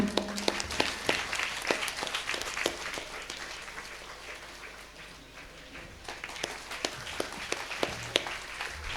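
An audience at an award ceremony in Palakkad claps for the honourees, a scattered, moderately loud run of hand claps that thins out midway and then picks up again.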